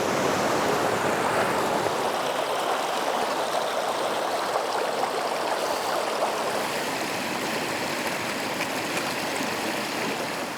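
A mountain river rushes down the slopes of Sgurr na Stri on the Isle of Skye, Scotland, a loud, dense and continuous roar of tumbling water close by with no talking.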